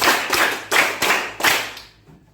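Participants clap five times in unison, a run of loud, tightly synced bursts at a brisk, even pace that tails off into room reverb at the end.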